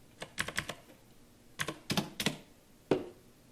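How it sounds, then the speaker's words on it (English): Quick bursts of keystrokes on a computer keyboard come in short clusters with pauses between them. The typing is close and fairly quiet, with no talking. "Am I typing something wrong here?"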